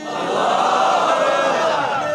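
Large crowd at a live religious gathering in Thamewali roars back a Takbeer slogan chant, a sustained loud massed shout of many voices rising and holding steadily.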